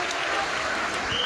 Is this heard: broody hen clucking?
no